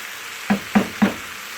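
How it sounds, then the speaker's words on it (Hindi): Ridge gourd in masala gets stirred in a hot pan, with three evenly spaced scraping, sizzling strokes standing out against a quiet background of gentle frying. "तोरी को मसाले में अच्छे से मिक्स करके 10 मिनट तक पकने दूँगी"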